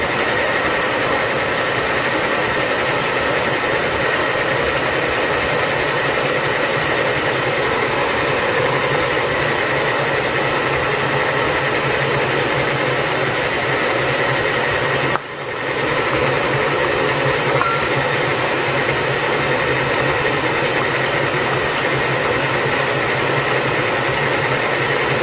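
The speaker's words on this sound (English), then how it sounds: "You can also do this while the mixer is actually mixing" Steady, loud whirring drone of an electric mixer whipping meringue, running continuously with one brief interruption midway before resuming.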